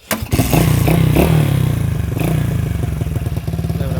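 A motorcycle fitted with a tuned ignition module with adjustable rev cut-off starts with a sharp crank. It catches at once and settles into a loud, steady, close-up idle with a rhythmic clattering throb.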